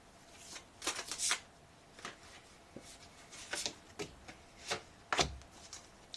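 Tarot cards are shuffled and drawn in short, soft bursts of riffling and sliding, close and quiet, with brief pauses between handfuls and no talk.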